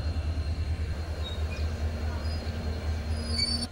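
The Dullabcherra to Guwahati train pulls into Badarpur Junction with a low, rhythmic rumble of wheels on rails, a faint squeal rising near the end, steady and fairly close.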